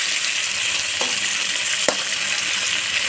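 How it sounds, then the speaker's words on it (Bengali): Food fries steadily in a pan, browning until reddish, with a constant bright sizzling hiss and a couple of faint clicks of stirring, heard up close without talk. "এগুলোকে খুব ভালো করে ভাজতে হবে একদম মানে লাল লাল হয়ে যাবে"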